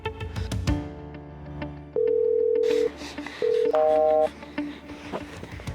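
Several touch-tone beeps sound as a phone number is punched in, with pauses between longer tones over faint background noise.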